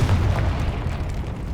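A Confringo spell explosion in the Hogwarts Legacy video game, heard as a deep, sustained booming rumble that stays loud and steady throughout, with no talking.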